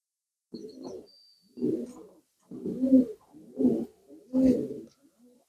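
Pigeons coo in a village dovecote where a yellow hen sits on her nest, giving five low, throaty bursts in a steady rhythm, close and fairly soft, with a faint chirp in the background.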